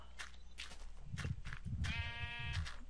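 Sheep in the video game Minecraft bleat several times in short wavering calls over a faint background, with soft footstep-like taps between them and no talk.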